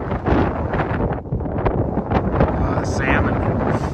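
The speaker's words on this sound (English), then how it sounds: "Cold, a lot windier up here." Strong wind buffets the microphone high on Denali's West Buttress route above Camp 3, around 11,500 feet, in gusty roaring bursts that rise and fall continuously, with a voice speaking intermittently underneath.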